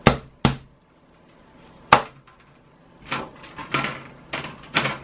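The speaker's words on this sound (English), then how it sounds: "Where's my smaller whack-it hammer?" A small hammer taps a plastic card at a model-making bench, giving sharp, isolated knocks: a couple of quick hits, a pause, one more strike, then a cluster of lighter taps.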